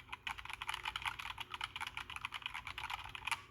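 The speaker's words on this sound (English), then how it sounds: "these Razer yellow mechanical switches are probably the best I've used from them." Rapid, steady clacking of Razer Yellow mechanical switches on a Razer BlackWidow V3 Mini HyperSpeed keyboard, typed on up close, crisp and continuous with no talking.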